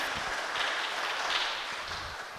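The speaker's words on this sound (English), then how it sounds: "Round of applause for Joe Bushy, who's here." Audience applause at a live community talk on homelessness, a steady, moderately faint wash of clapping from a seated crowd that tapers slightly toward the end.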